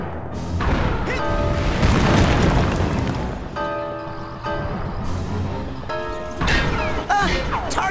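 Heavy booming blasts in a combat video game, a grenade going off among other crashes, with loud low rumbles and several sharp bursts, mixed with synthetic voice-like tones.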